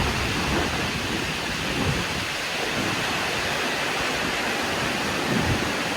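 Heavy rain with thunder pours down in a steady, dense roar with low rumbling underneath, loud and continuous without any talking.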